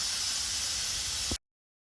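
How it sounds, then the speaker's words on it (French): A multicooker vents steam under pressure while cooking coq au vin, giving a steady, loud, close hiss that runs unbroken for over a second before cutting off abruptly. "Quand la pression sera libérée, on rajoutera les champignons et les lardons."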